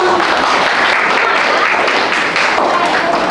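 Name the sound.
class applause for the group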